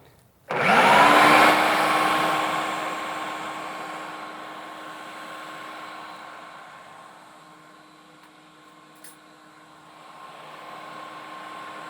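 A food processor whirs loudly as it blends a vegan bell pepper quiche filling, starting abruptly and running as a steady, dense motor roar that eases slightly midway and then builds again.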